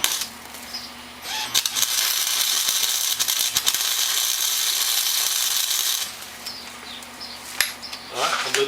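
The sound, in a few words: tightening LED headlight mount on Honda Fourtrax ATV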